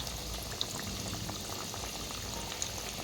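Sabudana vada, five at a time, frying in hot oil: a steady, dense bubbling hiss with small crackles, continuous and close, with no talking.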